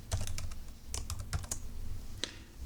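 Quick bursts of keys on a computer keyboard as a database name is entered, irregular clicky taps close by over a quiet room, with no talking.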